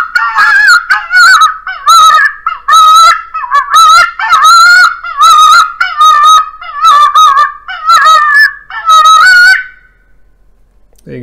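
A handheld electronic fox caller plays a cottontail rabbit distress call, a loud series of about ten harsh, wavering squalling bursts in steady rhythm, close and alone, ending in near silence.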